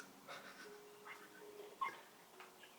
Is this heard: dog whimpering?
yes